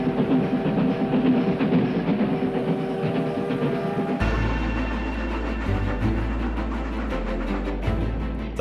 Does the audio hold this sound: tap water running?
no